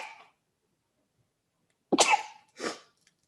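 Three sharp sneezes from one person break an otherwise silent room, a short one first, then two louder bursts close together about a second and a half later.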